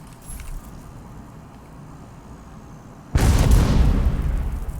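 A drone-delivered explosive goes off as a single loud, sudden blast, cutting in after a few seconds of quiet outdoor ambience and leaving a sustained rumbling roar.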